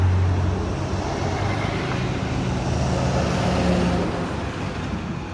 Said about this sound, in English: You can see a boatload of cement trucks, dump trucks.